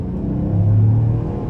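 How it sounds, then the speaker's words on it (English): Engine of a 2024 Ford Bronco Sport with the 1.5-litre turbo three-cylinder, heard from inside while driving: a steady low drone and rumble that swells slightly midway, with no talking. "So starting the test drive in this Bronco Sport here with the 3-cylinder"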